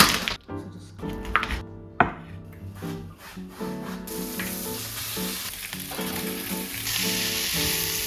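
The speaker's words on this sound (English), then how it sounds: "Let it cook for a couple of minutes so that it browns and the onions get nice and soft and caramelized." Onions frying and browning in a pan, a steady close sizzle running throughout, with tonal ringing sounds layered over the hiss.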